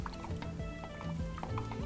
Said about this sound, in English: Stir it a little bit